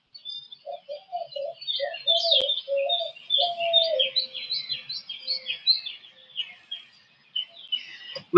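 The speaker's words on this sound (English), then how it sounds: "That dove sounds pretty close" Low cooing notes from a dove sound close by, mixed with higher chirping birdsong in an otherwise quiet outdoor setting.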